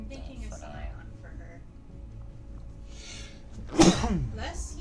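A person sneezes once, sharply and close by, near the end of the stretch, after quiet talk and background sounds during a livestream of character creation in XCOM 2.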